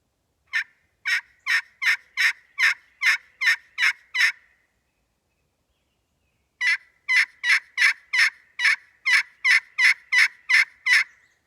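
Friction turkey pot call played with a half-cup hand grip that covers some sound holes, giving two runs of about ten sharp, evenly spaced yelps separated by a pause, close and clear against silence.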